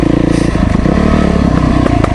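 Dirt bike riding on trails around St George, Utah: a loud, close motorcycle engine pulsing and revving steadily, with rattling and scraping clatter over it, no talking.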